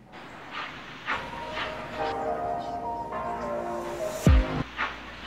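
An N scale model train runs on a railroad layout, a steady rolling rumble with sustained horn-like tones, then a sharp clunk near the end and a few quieter knocks.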